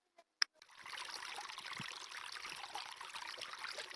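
A stream flowing on an outdoor hiking trail gives a steady, even water rush that starts after a couple of brief clicks and carries on alone at moderate loudness.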